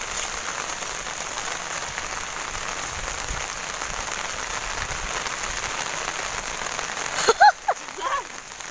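Heavy rain keeps up a constant, close hiss, with a brief burst of louder clatter and a faint voice-like sound near the end.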